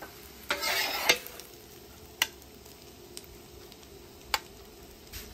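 Eggs are lightly scrambled on a hot griddle for breakfast burritos. A faint, steady sizzle runs throughout, with a short burst of scraping near the start and a few soft clicks of a spatula afterwards.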